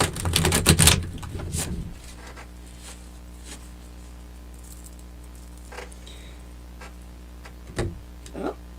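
A quick, dense burst of riffling card shuffles at the start, then a hushed room with a few soft taps and faint movement.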